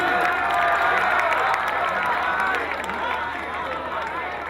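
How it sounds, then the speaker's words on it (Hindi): A large audience at an Urdu mushaira bursts into sustained, dense applause welcoming a poet to the stage, loud and steady at first then easing slightly, with scattered cheers mixed in. "बहुत ज़ोरदार तालियों में इस्तकबाल कीजिए आप पर रेहाना रूही"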